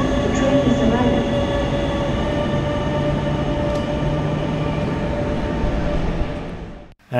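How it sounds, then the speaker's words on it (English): An RE 4 regional train rumbles steadily alongside a station platform, a loud continuous roll of wheels and carriage noise with faint squeals, ending abruptly. "Caution, the train is arriving."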